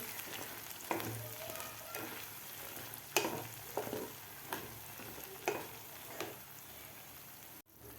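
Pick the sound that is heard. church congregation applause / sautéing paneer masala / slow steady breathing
sautéing paneer masala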